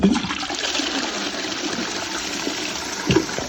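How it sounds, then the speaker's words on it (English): A toilet flushes with a steady rushing gush of water throughout, an older cistern whose inlet valve is faulty, with a brief louder surge near the end. "when I flush the toilet, I'll put the lid up so I can show you the flush"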